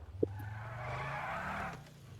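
Car tires skid in a video game, a close, brief squeal lasting a second or so over a low engine hum, preceded by a sharp tick.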